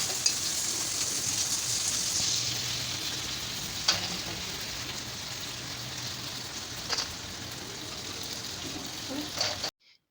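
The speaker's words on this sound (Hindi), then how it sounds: "मैंने नमक पारे बना लिए हैं और मैं यहाँ पे इसको करने लगी हूँ फ्राई" Namak pare dough pieces fry in hot oil, giving a faint, steady crackling hiss throughout with a few sharp clicks as they are handled.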